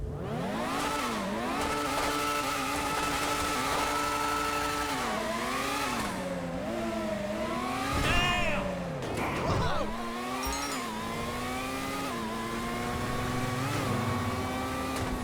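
A high-pitched engine of the Benefactor BR8, an open-wheel race car in GTA Online, revs and shifts through gears continuously, its whine rising and falling with sharp throttle changes, loud and close.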